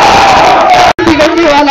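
A large crowd at a public rally in Ambajogai roars back in unison to a Takbir slogan call, loud and close, with one abrupt split-second break in the shouting.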